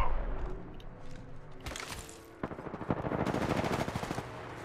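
Gunfire in the video game Apex Legends aimed at the player: bursts of rapid automatic shots crackle and rattle, with a dense, sustained volley in the second half.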